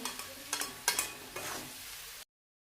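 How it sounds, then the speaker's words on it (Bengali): A spoon scrapes and stirs a vegetable sandwich filling with green chilli and fresh coriander leaves, giving a few close, uneven scraping strokes over a faint sizzle before the sound cuts off abruptly. "এখন ভালো করে মিক্স করে নেব"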